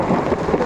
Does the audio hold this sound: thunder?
yes